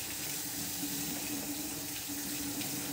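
Tap water runs steadily into a kitchen sink while hands are rinsed beneath it, a continuous soft splashing hiss at close range with a slight clatter right at the end.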